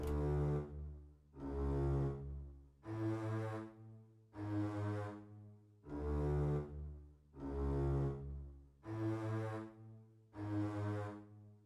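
Long, low sustained orchestral bass notes swell and fade in a slow, even sequence of about seven tones, moving by half steps, fairly quiet and without voices.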